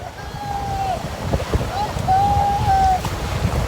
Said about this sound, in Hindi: ये देखिए अरब सागर के तट पे ये बोट राइडिंग शुरू हो गई है